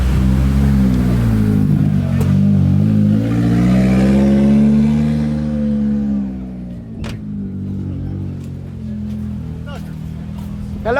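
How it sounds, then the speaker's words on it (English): A Mitsubishi Evo 3 engine at a car meet revs hard and rises in pitch, then drops back to a rough idle, loud and close, with a few sharp clicks near the end. "Of all cars, I did not expect an Evo 3."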